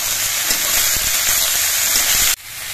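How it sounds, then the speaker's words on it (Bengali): Eggplant pieces frying with potato and onion in a pan give a steady, close broadband hiss and sizzle with faint stirring knocks, cutting off abruptly near the end. "এবার এর মধ্যে বেগুনগুলো দিয়ে দিচ্ছি। বেগুন দিয়ে আরো কিছুক্ষণ ভেজে নিতে হবে।"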